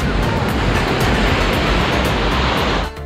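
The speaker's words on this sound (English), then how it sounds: "You see the waves are big and black." Big dark surf rolling onto a beach in Phuket, a continuous loud broadband roar of breaking waves with wind buffeting the microphone, steady throughout and easing slightly at the very end.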